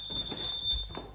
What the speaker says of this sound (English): Got the boiler with CO2 alarm, which we'll just check. Should beep again.